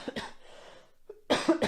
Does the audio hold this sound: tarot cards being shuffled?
no